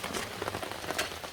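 Steady rain falls at a campground beside waterfalls in Michigan's Upper Peninsula, a continuous close patter of drops on surfaces throughout, with no voices.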